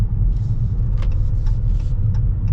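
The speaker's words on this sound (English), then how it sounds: "Anyways, let's get our full-blown acceleration here." A 2022 Dodge Charger GT AWD in sport mode accelerating hard, its engine a deep, heavy rumble with road noise, steady and loud from inside the cabin, with a few faint clicks over the top.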